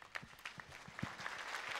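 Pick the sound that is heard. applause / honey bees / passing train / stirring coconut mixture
applause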